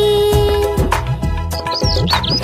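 Loud, close bird chirps and tweets sit in a children's nursery rhyme, in quick high bursts over a musical backing.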